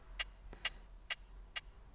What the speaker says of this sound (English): which is basically open hat with a reverb on it